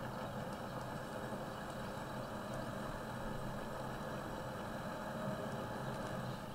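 A tractor engine idles in the off-road driving game Spintires MudRunner, a low, even rumble with a faint rattling texture that runs steady and unchanging, quiet and without voices.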